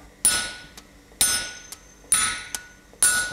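A blacksmith strikes a top fuller to draw out hot metal on an anvil: four heavy, ringing hammer blows at an even pace, each followed by a lighter rebound tap, close and loud.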